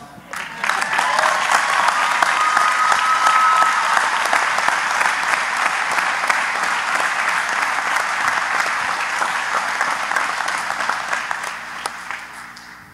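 A crowd applauds graduates at a Tower IX graduation ceremony. Sustained, dense clapping carries on for over ten seconds at a fairly loud level, then tapers and cuts off near the end.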